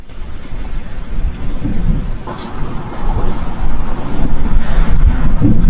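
A lightning strike with rumbling thunder, caught by a Ring doorbell-style security camera outdoors, with a loud, rough, continuous roar that swells in the second half amid wind and rain noise.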